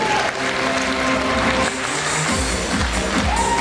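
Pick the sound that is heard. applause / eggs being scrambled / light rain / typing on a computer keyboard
applause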